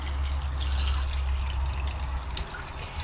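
Caught trout rinsed under running water beside a lake, a steady close gush and splash of water with a low rumbling flow throughout.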